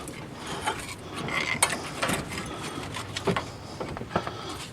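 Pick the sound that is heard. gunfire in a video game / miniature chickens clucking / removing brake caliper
removing brake caliper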